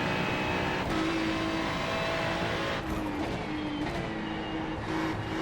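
Ferrari 296 GT3 racing around Zandvoort in iRacing, its engine droning steadily and loudly throughout with shifting pitch as the throttle is worked, with brief tire squeal and no talking.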